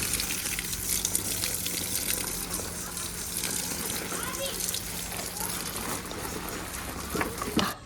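Water poured over plants in a home garden, a steady splashing gush running for several seconds, with voices and someone talking over it.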